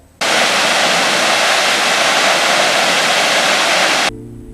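A loud, continuous roar of a waterfall, steady rushing water that starts abruptly and cuts off near the end.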